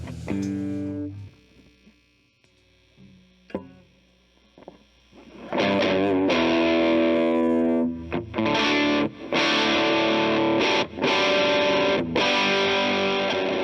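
Electric guitar played through a Tube Overdrive Distortion pedal: a few sparse notes first, then loud, sustained distorted chords with harmonic-rich overdrive, ringing on with brief gaps between strums.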